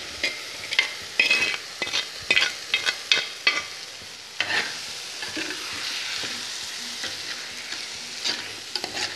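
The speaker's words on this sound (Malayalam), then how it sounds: "നല്ല പോലെ ഒന്ന് ഉലർത്തിയെടുക്കാം." Cooked beans (payar) being stir-fried in a pan, with repeated scraping and stirring clatter over a soft continuous sizzle, close and moderately loud with no talking.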